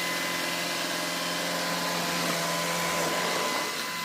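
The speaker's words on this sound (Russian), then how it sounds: "Вот так вот он все пылесосит." A Shark vacuum cleaner runs steadily close by, its constant whirring motor drone broad and even with no pauses, sounding as it sweeps along the floor and under a sofa.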